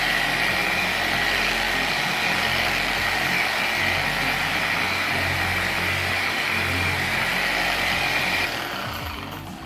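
Electric polisher drones steadily while spreading wax or sealant over car paint, a loud continuous whirring buzz with a constant mid-pitched whine that winds down at the end.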